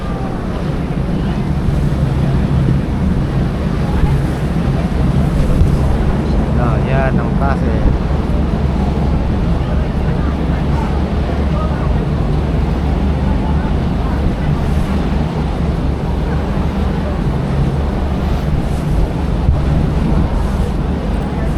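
Rough, continuous rush of sea waves and wind buffeting the microphone, with people talking briefly over the surf.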